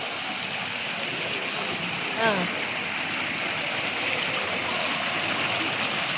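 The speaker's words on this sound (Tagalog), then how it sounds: "Tubig pala talaga tumatakbo to." Steady running water of a small stream rushes continuously nearby, a broad even wash with a brief faint chirp partway through.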